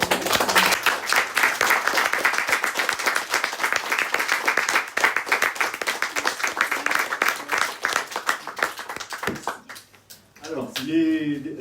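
Applause from an audience at a Paris screening and meeting with filmmakers, many hands clapping loudly and steadily before thinning out, with voices speaking briefly at the end.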